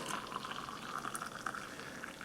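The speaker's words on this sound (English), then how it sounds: "And in with the water." Water poured into a cup over instant coffee powder, sugar and whitener, a soft, steady trickling and bubbling stream heard close up and fairly quiet.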